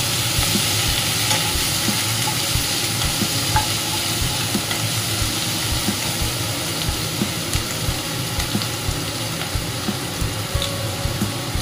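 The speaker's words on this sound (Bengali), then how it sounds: "হাফ চামচ করে এটা অ্যাড করে দিলাম। আবার একটু নেড়ে নেব।" Ginger garlic paste fries in oil for dry chilli chicken, producing a steady loud sizzle with intermittent scraping and clinking as the pan is stirred, close and continuous throughout.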